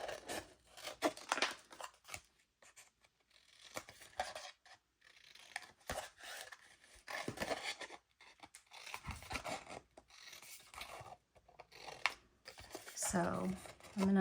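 Scissors snip and crunch through patterned scrapbook paper, cutting a hexagon into several smaller pieces in bursts of close cuts with crinkling paper between, while someone talks throughout.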